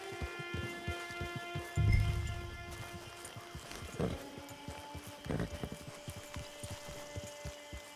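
Horse hooves clip-clop at a steady walking pace in Red Dead Online, with a low ambient hum underneath and a few louder knocks partway through.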